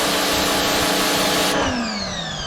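A Lidl Parkside pressure washer runs with a loud steady motor whine and rushing hiss, then its pitch drops and the whir winds down as it eases off, heard close up.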